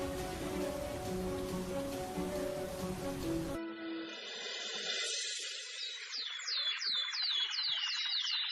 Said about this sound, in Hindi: कुछ दूर चलने पर ही जोर जोर से बारिश होने लगती है।